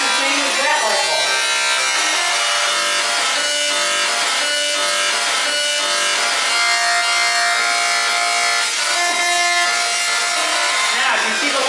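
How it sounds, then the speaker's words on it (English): High-voltage electric arcs from a singing Tesla coil buzz out a harsh, tonal melody, loud and close, the notes shifting in pitch with a raspy, sawing edge, while people talk nearby. "The music you're hearing is coming from the lightning."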